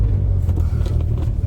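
The engine of a 1981 Dodge Challenger revs hard at full throttle, a loud, close, deep rumbling roar that holds steady throughout a brief burst.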